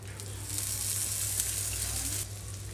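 Oil sizzling steadily on a hot pan for sooji rava dosa, a loud continuous hiss and crackle that swells slightly in the middle and eases toward the end, with no voices.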